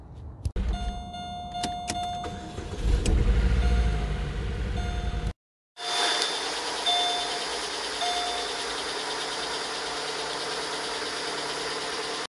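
The 2.2 Ecotec engine of a 2005 Chevy Malibu cranks with clicks and whirring, cuts briefly, then catches and settles into a steady, even idle after a motor-flush oil change.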